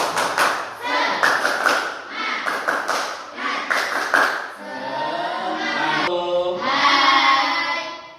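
A classroom of pupils doing the tepuk semangat rhythmic clapping chant, bursts of clapping in a patterned beat, then a sung chant line without claps toward the end, loud and close.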